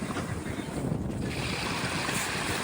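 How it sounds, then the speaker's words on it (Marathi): Sea waves wash steadily onto the shore at Mahim Koliwada in Mumbai in the evening. The surf is a continuous, fairly loud roar mixed with wind buffeting the microphone. "समुद्राच्या लाटा किती मस्त वाटतं ते"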